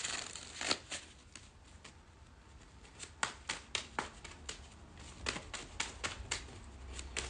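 Tarot cards shuffled by hand for a collective reading, a run of crisp riffling snaps and soft slides, close and quiet, with irregular bursts of card flicks and no talking.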